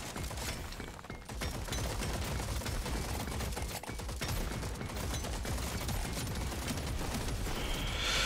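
Dense, continuous gunfire from the video game Deep Rock Galactic Survivors, a rapid, steady barrage of shots and cracks filling the whole stretch at an even loudness with no talk.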